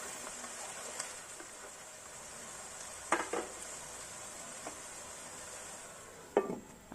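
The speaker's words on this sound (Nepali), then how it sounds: "अब यसरी एकछिन चलाउने" Potatoes and cauliflower turned in hot oil in a pan, with a steady soft sizzle and two sharp scraping clinks of the spoon against the pot, otherwise quiet with no talk.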